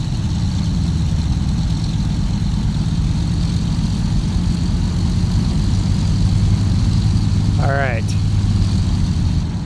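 A Douglas World Cruiser propeller plane in a flight simulator rolls for takeoff from runway 30, a steady droning engine hum under a man's brief remark and a short rising electronic tone near the end.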